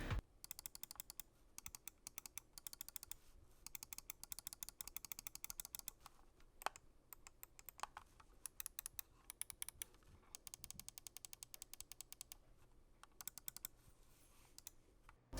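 Mouse button clicks from a Logitech G305 wireless gaming mouse with on-on switches, dense rapid crisp clicking in quick bursts, close and alone with no talk.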